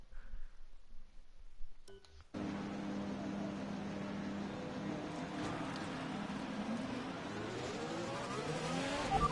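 A Formula 1 car in the F1 2021 racing game on a USA circuit roars into a steady, loud engine drone after a brief quieter start, holding a high buzzing tone that climbs gradually as the car accelerates.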